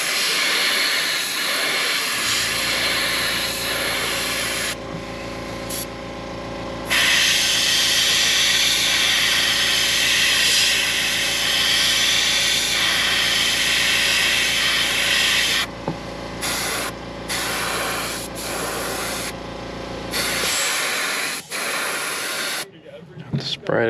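A steady, loud hiss of an airbrush spraying paint onto a candy craw fishing lure runs for about twenty seconds with brief pauses near the end, under low mechanical hum.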